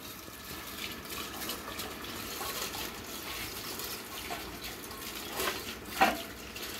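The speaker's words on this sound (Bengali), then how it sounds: "বাবা বাবা জল পড়ছে রে" Water from a motor pump pours and splashes steadily at a home, a soft continuous rush with a few louder splashes near the end.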